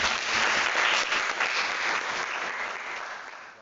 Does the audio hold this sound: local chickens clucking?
no